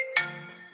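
A mobile phone ringtone chimes abruptly during an online webinar, a short bright electronic tone that starts sharply and rings on, fading slowly, with no talk over it.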